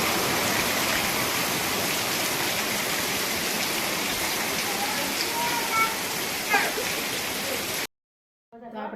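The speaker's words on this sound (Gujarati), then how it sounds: "જો કેટલો વરસાદ આવે છે." Heavy monsoon rain pours down steadily outside a home, a dense continuous hiss that fills the scene before cutting off abruptly near the end.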